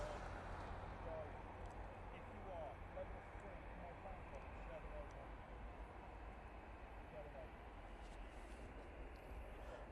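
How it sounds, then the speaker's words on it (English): An EasyJet airliner takes off from Manchester Airport, a steady broadband jet roar with deep rumble holding evenly throughout, distant rather than overpowering, alone with no talk. "this is EasyJet going off to Montpellier"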